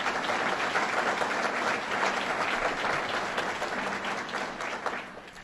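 Dense, steady applause from an audience at a governor's budget presentation in Amherst fills the hall, loud and sustained throughout, with a slight taper toward the end and no speech over it.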